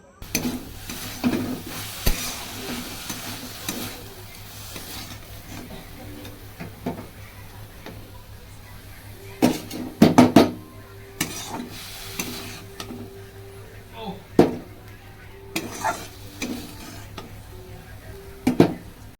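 Leafy greens (shaak) fry in a pan with a low, continuous sizzle, while repeated scraping and clattering stir strokes come in irregular bursts, close by, over roughly twenty seconds.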